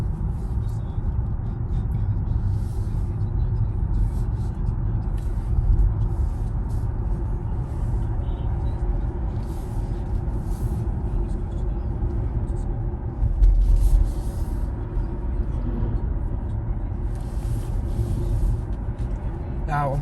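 Inside a Kia EV6 electric car on the move, a steady low road rumble and tyre hum fill the cabin continuously, with a brief bump midway.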